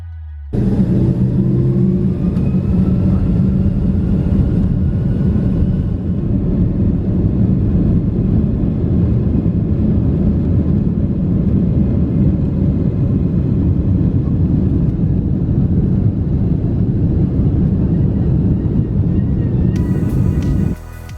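A United Airlines Boeing 767 rolls along the taxiway toward runway 22 Left at Chicago O'Hare. A steady, heavy low rumble drones on for about twenty seconds without a break.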